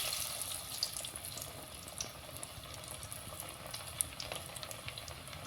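An evening snack frying in hot oil in a home kitchen, a steady close hiss with fine crackling and small pops running throughout.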